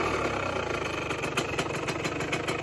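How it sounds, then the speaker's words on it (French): A cold car engine idles low after starting, a close, steady mid-low rumble with a faint rhythmic ticking pulse running through it, and no talk. "Elle démarre toujours nickel. Elle tire le ralenti."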